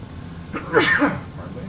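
A single short sneeze bursts out briefly, close and fairly loud, followed by a bit of low background murmur; someone nearby is talking quietly around it.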